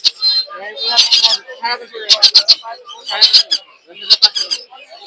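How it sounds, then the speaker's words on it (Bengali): Caged birds at the Mirpur bird market chirp and call in quick bright bursts, loud and close, with short pauses between clusters of sharp repeated notes. "মিরপুর পাখির হাট"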